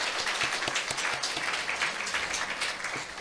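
A church congregation claps steadily to welcome visiting members of Daegu Presbyterian Church at a 2025 joint Bible conference, with continuous applause throughout and no speech.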